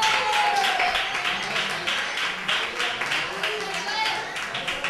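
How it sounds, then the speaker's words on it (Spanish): Youth football awards ceremony audience applauding a young defender, a dense wash of clapping throughout, steady and fairly loud, with some voices mixed in. "¡Un aplauso para él!"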